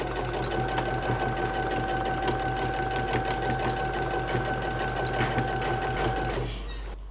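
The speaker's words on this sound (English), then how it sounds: "I show you my free motion quilting" Sewing machine doing free motion quilting runs in a loud, steady, continuous buzz with a fast rhythmic needle chatter, close up, and stops near the end.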